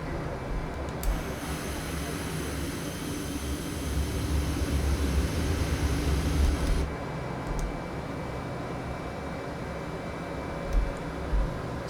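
Steady broadband rushing wind noise inside the cockpit of a Citation X business jet flying near redline speed in Flight Simulator 2024, a continuous airy roar with low rumble, slightly swelling midway, no voices.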